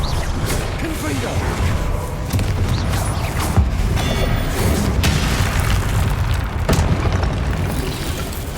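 Booming blasts from the Confringo fire spell in the Hogwarts Legacy video game go off repeatedly over a steady game soundscape, with bursts and whooshes mixed in and faint voices beneath.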